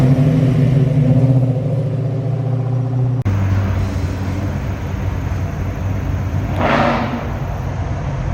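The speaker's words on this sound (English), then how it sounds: "There's a street rod driving past." A street rod on Rundle Road roars past the Iroquois Park parking lot with a deep engine rumble that rises, holds steady, then fades as it moves away.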